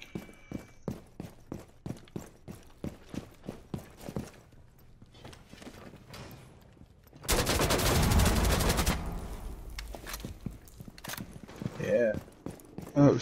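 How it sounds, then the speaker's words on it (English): Gunfire in the Rainbow Six Siege video game, a run of sharp rapid shots followed by a louder sustained burst of fire, with a voice talking over parts of it. "somebody's upstairs shooting from the hole"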